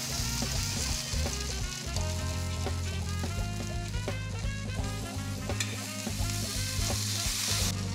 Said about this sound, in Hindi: इसको दूसरी तरफ से भी हमें अच्छे से सेक लेना है